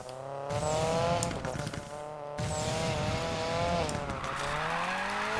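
Mini Countryman driven hard in the racing game Need for Speed Payback: loud, close engine revs climbing in pitch, with a sudden gear-shift drop and tire squeal as it corners.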